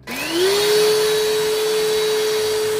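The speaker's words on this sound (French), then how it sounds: "Du coup ce que je vais faire pour le moment, c'est aspirer un petit peu." A vacuum cleaner sucking dust out of a fan starts up with a rising whine, then settles into a loud, steady, close roar with a high tonal whistle on top.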